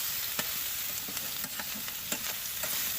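Maple-flavored sausage fries in a pan on a woodstove inside a hot tent, giving a steady close sizzle with scattered sharp pops and light scraping, no voices.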